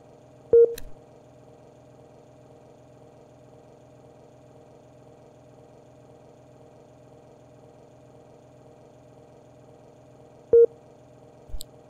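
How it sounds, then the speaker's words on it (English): Steady electronic beeping tone from vPilot flight simulator software, a continuous droning pulse held throughout with a couple of sharp clicks near the start and end, moderately loud and alone. "that beeping noise is VPilot trying to create a model for AI"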